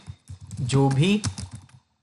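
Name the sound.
typing on a computer keyboard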